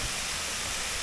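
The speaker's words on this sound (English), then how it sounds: "We're back at this waterfall." A waterfall in Romania pours steadily, a dense, even hiss of falling water heard fairly faint and constant with no other sounds.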